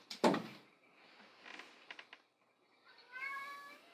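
A house cat meows in a loud, sharp cry at the start, followed by quieter rustling and knocks, then a softer drawn-out meow near the end.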